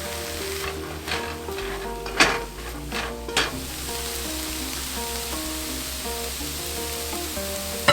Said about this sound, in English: I'm gonna add it all to a frying pan, and then I'm gonna add some fresh ginger, some fresh garlic, and tamari